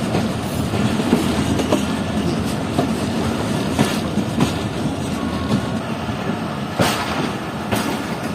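Riding aboard the Pak Business Express at night as it skips Samma Satta Junction station, the carriage gives a loud, continuous rumble with rhythmic clickety-clack of wheels over rail joints and sharp clanks at intervals.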